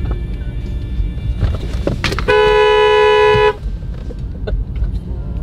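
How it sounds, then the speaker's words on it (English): A 340 Dart's car horn sounds one loud, sustained honk of just over a second, standing out above a low background rumble. "Watch it honk the horn."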